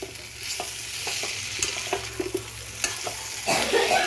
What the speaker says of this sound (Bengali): এঁচোড়গুলো দিয়ে আবার 2-3 মিনিট ভালো করে কষে নেব